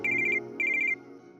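A phone rings at home in two bursts of bright electronic ringtone trills, each about a third of a second long, over a steady low background.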